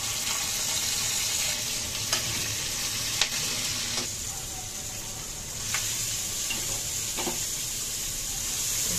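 Bitter gourd fries in a generous amount of oil, giving a steady, close sizzle with occasional light clicks and knocks of stirring.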